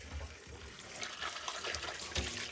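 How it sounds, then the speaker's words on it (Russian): Mineral healing spring water runs from a tap in a steady, close splashing stream with a rushing hiss, continuous for a few seconds and without any talk. "Прям можно пить вот отсюда из-под крана."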